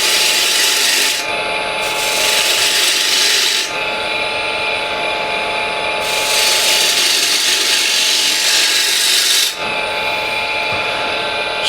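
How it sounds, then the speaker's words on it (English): A small spindle gouge cuts a wooden workpiece spinning on a lathe, trimming a tenon to about 10 mm diameter: a loud, steady rasping, shaving drone that dips briefly a few times, with no voices. "I'll set that diameter with a smaller spindle gouge"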